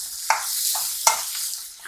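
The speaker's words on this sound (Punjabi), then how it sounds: "ਆਪਣਾ ਤੜਕਾ ਭੁੱਜ ਗਿਆ, ਇਹ 'ਚ ਮੈਂ ਟਮਾਟਰ ਮਿਰਚਾਂ ਵੀ ਪਾ ਦਿੱਤੀਆਂ।" Tempering frying in a pan while preparing a potato and eggplant curry: a steady close sizzle with a few sharper crackling bursts as the spices fry, no voices present.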